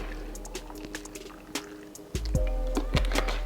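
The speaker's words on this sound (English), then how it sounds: "And then I'm just gonna pour my milk on top." Milk pouring over espresso shots in a glass for an iced coffee, a steady liquid stream with small drips and splashes and a few light clinks, close and fairly quiet.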